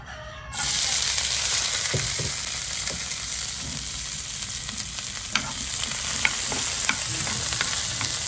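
Chopped garlic frying in about two tablespoons of oil for a chutney: a steady, close sizzle that starts abruptly and runs on with occasional clicks of a spoon against the pan.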